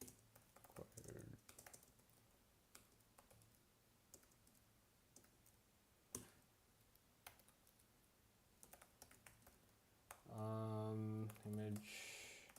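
Quiet computer keyboard typing comes as scattered soft clicks and taps in a coding session, with a brief louder tonal burst near the end.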